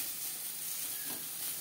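Bitter gourd slices fry in hot oil with salt and turmeric, giving a steady, even sizzle with soft crackle throughout and no voices.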